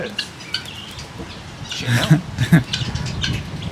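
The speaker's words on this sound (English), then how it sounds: "Budgies and zebra finches." Small caged budgies and zebra finches chirp and tweet in quick, scattered bursts, fairly close, with a busier cluster of calls midway over a soft background hiss.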